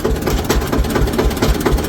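Close and loud, a village tractor heading out to the fields chugs with a heavy, even diesel beat, low thumps pulsing steadily under mechanical rattle for the whole short stretch, with no talking.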